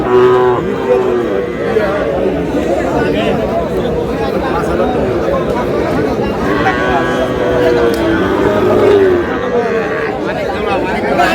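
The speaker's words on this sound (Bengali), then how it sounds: "ষাঁড় বাচ্চা" Young bull calves at a cattle market, with low mooing and bleating from several animals amid steady crowd chatter and people talking nearby.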